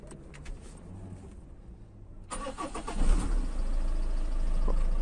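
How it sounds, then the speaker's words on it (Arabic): A car engine cranks and catches after its sensor was cleaned, a starter whirr giving way to a steady, slightly rising idle that settles into a constant running hum, close and without talk. "سمعكم الموتور،"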